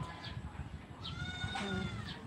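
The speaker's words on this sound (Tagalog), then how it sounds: "Naiyak ang kambing." A goat gives several short, wavering bleats at moderate distance over a low rumbling background.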